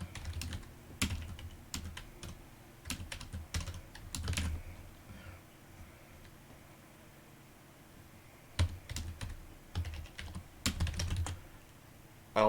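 Bursts of quick clicking keystrokes on a computer keyboard as code is typed, close and clear, with pauses of quiet between runs of typing and no voices.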